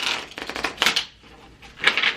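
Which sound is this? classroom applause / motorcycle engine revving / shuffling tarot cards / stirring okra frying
shuffling tarot cards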